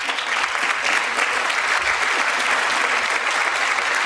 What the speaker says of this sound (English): they're cheering for American strength